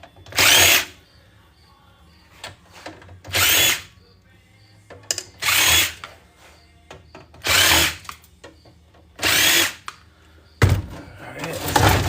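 A power drill backs screws out of an electronics casing during e-waste scrapping: six short whirring bursts, each about a second long, separated by pauses with faint handling clicks and thuds, close and loud.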